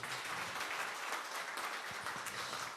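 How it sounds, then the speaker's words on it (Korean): Applause from the audience at a policy debate forum on balanced national development, a steady, fairly distant wash of many hands clapping that continues evenly throughout. "우리 6분의 여야 의원님들을 위해서 커다란 박수 한번 부탁드리겠습니다"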